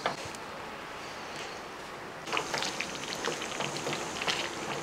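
Ginger curry simmering and bubbling on a low flame, a soft steady crackle and fizz of small bursting bubbles that grows busier and slightly louder partway through, close and quiet with no voices.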